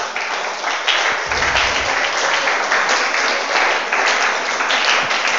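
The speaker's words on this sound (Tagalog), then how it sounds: "Palakpak sa Panginoon." A church congregation applauds during a sermon, giving a steady, moderately loud wash of many hands clapping for about five seconds.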